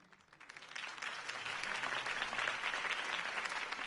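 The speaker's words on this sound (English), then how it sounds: "could have heard that applause" A crowd breaks into applause that swells quickly and holds steady, a dense patter of clapping with no talking, in Batman: The Telltale Series.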